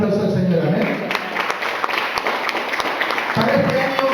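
Applause from a church congregation fills the room, a steady wash of clapping with talk running underneath.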